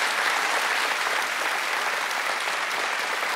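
Steady applause from a studio audience at a TV chat show, a dense even wash of clapping that holds at full level throughout with no voices over it.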